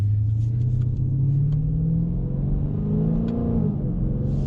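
A 2020 Dodge Challenger Scat Pack in track mode accelerates, its engine note climbing in a loud, rising growl, easing briefly, then pulling up again, heard from inside the car with no talk.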